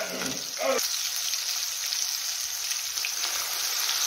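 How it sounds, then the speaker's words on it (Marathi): Crushed garlic and green chili paste hit hot oil in a pan, setting off a steady bright sizzle that continues throughout, with a brief voice and clatter at the start. "तेल गरम झालं की लसूण टाकून घेऊया ठेचलेला। त्याच सोबत हिरवी मिरचीची पेस्ट टाकून घेऊया।"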